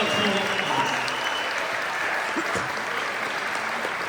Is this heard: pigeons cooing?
no